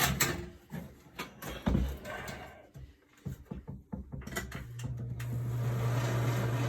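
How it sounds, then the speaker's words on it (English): Clicks and handling noises give way to a photographic film dryer switching on and settling into a steady, low electric hum. "Stick these in the film dryer."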